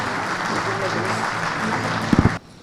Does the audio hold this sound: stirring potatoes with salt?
no